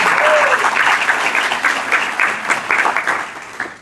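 An audience at an inauguration ceremony breaks into loud, sustained applause, a thick wash of many hands that stays strong and tapers slightly at the very end.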